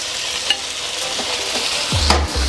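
Chicken chow mein stir-frying in a wok over high heat, a steady loud sizzle with a few scraping stirs and clanks near the end, close and without talk.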